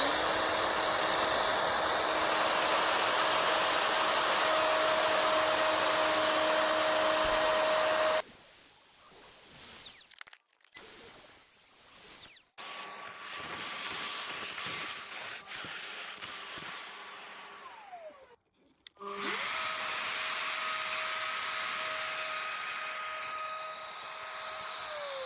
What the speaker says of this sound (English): There's a nice smooth curve, perfectly perpendicular to the face because it was cut with a router.